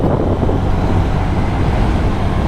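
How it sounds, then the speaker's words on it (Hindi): A 2024 TVS Jupiter 110 or Honda Activa 110 scooter at full throttle on the road near 60, a steady loud engine drone mixed with heavy wind rush, continuous and unbroken throughout. "अब देखिए पूरा थ्रॉटल मैंने यहाँ पर दे दिया है।"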